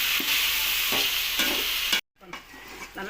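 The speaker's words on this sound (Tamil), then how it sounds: "இஞ்சி பூண்டு வெங்காயம் தக்காளி போட்டு வதக்கணும்" Ginger, garlic, onion, tomato and chicken sizzle and fry in a pan for chicken gravy, with a steady hiss and scraping stirs, a brief cut, then more frying.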